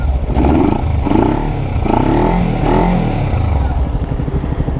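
Close by, a 2009 Kawasaki Ninja 250R Limited Edition fitted with a KNN open air filter revs repeatedly, its deep, bassy engine rising and falling in several throttle blips before settling back to a rough idle.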